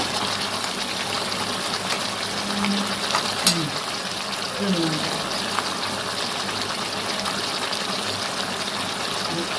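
Hot water gushes in a steady, continuous rush, like pouring or a running tap, with a couple of faint clinks partway through.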